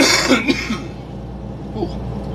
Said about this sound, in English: I've started coughing like that this morning